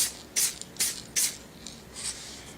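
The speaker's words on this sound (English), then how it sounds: "spray a couple times here," A spray can of paint sprays a Power Rangers figure in three quick close bursts, then two softer, shorter hisses.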